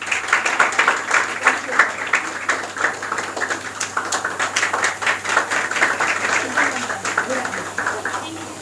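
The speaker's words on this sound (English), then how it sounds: "Please clap for her." An audience at a school confidence-building program applauds an award winner with steady, moderately close clapping that runs throughout.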